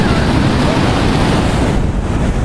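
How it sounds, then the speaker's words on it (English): Ocean surf rolls onto the shore at a campsite, a loud, steady wash of waves with heavy wind buffeting the microphone, no pause between breakers. "It's the waves out there."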